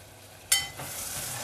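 Ginger garlic paste hits a pan of browned onions, giving one sharp sizzling burst followed by a steady, softer frying hiss, close and without talk.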